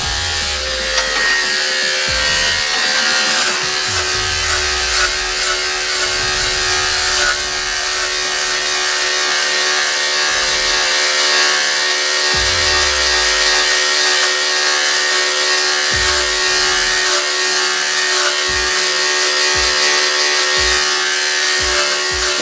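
Electric hair trimmers buzz steadily and up close while cutting hair during a home haircut, a continuous motor whine with shifting rubbing and cutting textures over about twenty seconds, no talking.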